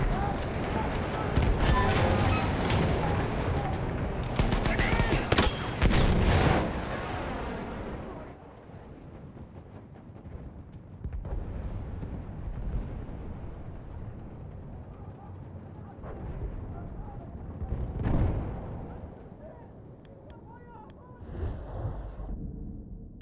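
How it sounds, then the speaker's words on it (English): A grenade blast and gunfire in the Battlefield 1 video game, with dense loud explosions and shooting early on, then softer distant booms and scattered shots, with a voice heard over the action. "Throwing grenade! Watch it!"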